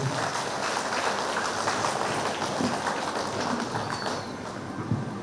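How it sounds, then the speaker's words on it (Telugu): A large audience claps loudly and steadily at an outdoor vegetarian rally in Nizamabad, a dense, continuous wash of applause holding at an even level throughout. "గట్టిగా చప్పట్లు కొట్టండి."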